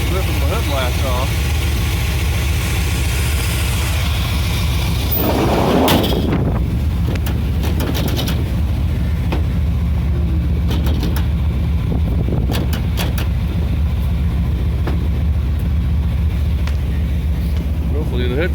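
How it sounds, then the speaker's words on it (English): Strong wind buffets a truck in a loud, constant roar with a steady engine rumble beneath and a brief louder gust near the middle. "The damn wind is brutal, ripping my hood off."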